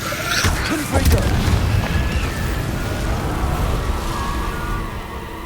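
A Confringo fire spell explodes in Hogwarts Legacy, a loud booming burst followed by a sustained rumbling roar of flames and debris that slowly fades.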